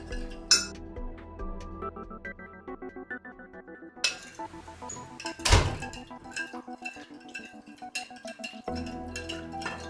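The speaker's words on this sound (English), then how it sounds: "Mix until dry yeast, sugar and salt dissolve." A spoon stirs dry yeast, sugar and salt in a bowl while making olive bread dough, producing scattered light clinks and taps against the bowl over a continuous musical background.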